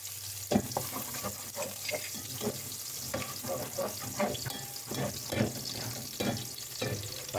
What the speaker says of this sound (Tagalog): Tapos ihulog natin yung chopped garlic.